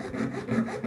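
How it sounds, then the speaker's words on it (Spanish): A hacksaw blade cuts through a pipe for a homemade TV antenna, giving a close, steady rasping back-and-forth saw stroke with no talking. "Y aquí voy a cortar el tubo. Para ello voy a utilizar una hoja de segueta."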